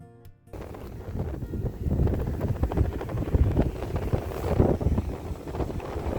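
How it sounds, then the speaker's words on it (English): Strong wind gusts buffet the microphone on a Florida beach, a loud, rumbling roar with uneven surges and a hint of surf beneath, continuous throughout after a brief quiet start. "So it's pretty windy right now"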